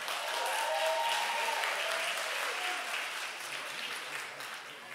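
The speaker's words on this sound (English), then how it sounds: "y'all can clap for that" Audience applause at a Christian awards ceremony during an honorary presentation, a sustained even patter of clapping that eases slightly toward the end, with faint voices beneath.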